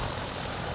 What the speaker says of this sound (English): Instructors and students of a flight school make touch-and-go landings in Cessna 172s.